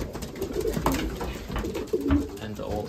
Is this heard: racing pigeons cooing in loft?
yes